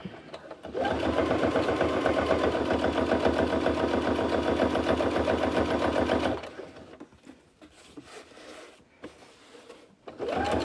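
A sewing machine stitches a boxy bag in one steady, loud mechanical run of about six seconds, then stops, leaving faint handling noises and a brief restart at the end.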